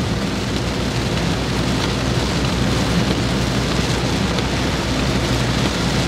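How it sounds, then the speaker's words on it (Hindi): Heavy monsoon rain near a hilltop temple in Virar, big drops pouring down in a loud, continuous roar with a deep rumbling undertone, no voices. "ये देखिए फ्रेंड्स कितनी बड़ी बड़ी बूंदें बरस रही हैं, जोर जोर से आवाज भी आ रही है, खूब झमाझम बारिश हो रही है।"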